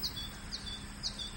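A goldfinch gives a few short, high chirps spread across the moment, faint and thin over a soft, steady background hum.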